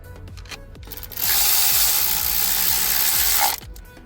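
Ratchet wrench loosening the inverted Torx bolts on top of a Mercedes engine during camshaft and crankshaft timing chain work: a few faint clicks, then a steady loud whirring rasp of about two seconds before it stops.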